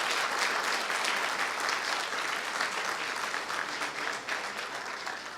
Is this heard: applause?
yes